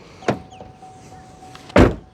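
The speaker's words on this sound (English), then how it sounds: "We're going to check out the sound of the closing door." Two solid thumps from the frameless door of a 2024 Chevrolet Camaro 3LT Convertible Collector's Edition, a lighter shut first and then a louder, fuller slam near the end, close by with no talk.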